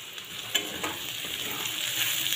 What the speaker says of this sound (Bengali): ক্যাপসিকাম দিয়ে দেবো, দিয়ে ভালো করে ভালো করে ভেজে নেবো।